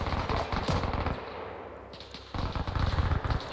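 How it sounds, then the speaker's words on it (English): Bursts of friendly machine gun fire in a World War II French Resistance video game, rapid loud rattling volleys that pause briefly and then resume in a dense, continuous stream. "And now he's getting shot by his friendly MG."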